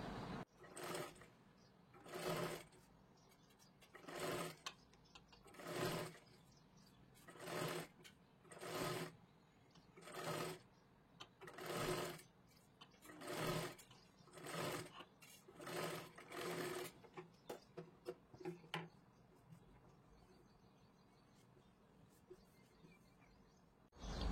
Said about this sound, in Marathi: आता असं ठेवून आपल्याला ती गोलाकारामध्ये शिलाई करून घ्यायची आहे.